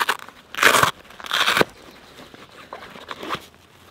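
Velcro on a Gregory Miwok 24L day backpack is pulled apart in two loud bursts of crackly ripping noise, each about a third of a second, followed by fainter scratchy rustling.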